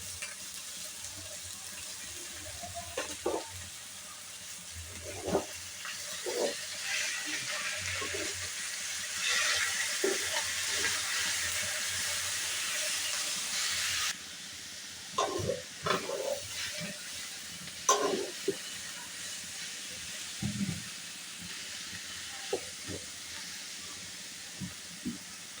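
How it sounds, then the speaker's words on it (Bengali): Pumpkin greens sizzling while frying in a pan in a rural kitchen, a steady hiss with intermittent clinks and stirring scrapes, close and moderately loud, with no talking. "এটা এখন শাকটা দিব, লাউ শাকটা দিয়ে ভালো করে ভেজে নেব।"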